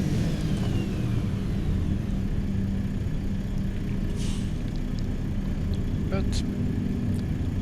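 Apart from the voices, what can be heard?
truck engine in Euro Truck Simulator 2 video game, not a Scania V8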